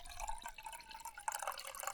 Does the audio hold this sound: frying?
no